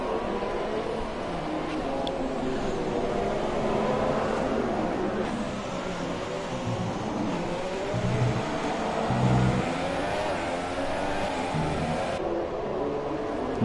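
Formula 2 race cars at pre-season testing in Spain, engines droning and revving through a chicane, a continuous roar of cars at a distance with shifting pitch.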